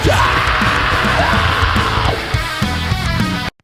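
A loud sustained vocal scream in a recorded rock song over heavy guitars and drums, ending abruptly.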